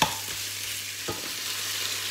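Pork mince sizzles and hisses steadily in a hot pan as it is stir-fried, a close, continuous frying crackle with a brief stirring scrape partway through and no voices.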